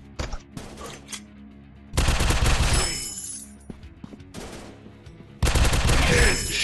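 Bursts of automatic gunfire from the Counter Terrorist Android first-person shooter, in three loud rapid volleys separated by short gaps, with quieter game sounds between them.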